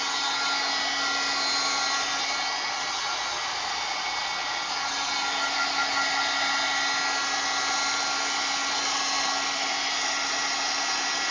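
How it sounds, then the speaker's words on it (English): A heat gun dries thin paint on a mixed media canvas, giving a steady, unbroken blowing hiss with a constant tone, moderately loud and close. "Now I'm going to take my heat gun and heat this up real, or heat it, dry it real quick."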